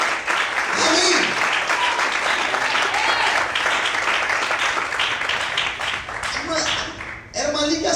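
A church congregation applauds steadily for several seconds, a dense wash of clapping from the crowd with a voice speaking over it at moments.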